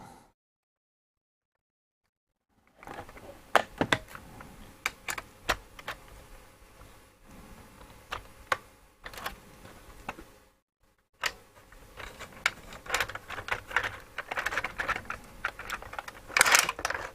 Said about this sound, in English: Let me just pop a couple screws back in it.